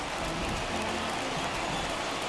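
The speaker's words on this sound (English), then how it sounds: "the rain starting to intensify here. It's coming down a little heavier now." Steady heavy rain pours down over a baseball stadium in MLB The Show 21, a continuous dense hiss with no voices over it.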